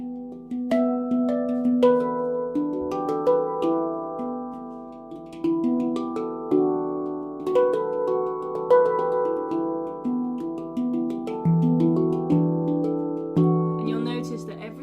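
A handpan played live, ringing melodic steel notes that sustain and overlap in layered chords, struck in a steady flowing rhythm, close and clear with no talk.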